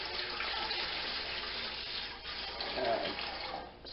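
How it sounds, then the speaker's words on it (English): Steady rushing warm water from a tap into a stock pot, a continuous hiss filling the clip at moderate loudness, with no speech. "room temperature water, or right out of the tap warm water."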